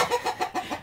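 A chicken on a spring homestead gives a quick run of about six rhythmic clucks, close and clear with no talking.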